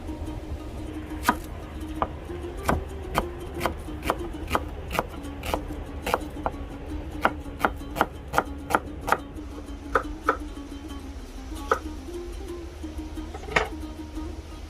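Knife chopping onion on a cutting board for a Tajik-style kebab marinade: a steady series of crisp, close blade strikes, roughly a dozen or more sharp knocks at an even rhythm over a low background hum, with no talking.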